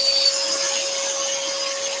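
Scroll saw cutting wood for a lantern, a steady high whine with a constant motor hum, running evenly with no voices.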